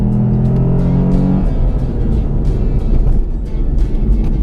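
A Lexus IS250 with a 2.5-litre V6 is heard from the cabin as the engine accelerates hard, a loud, steady, rising drone with a gear change partway through, close and continuous, with no talk.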